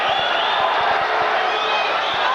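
Crowd cheering at the 1995 Big Ten Swimming Championships race, a steady loud roar of the arena filling the whole moment, with a commentator talking over it.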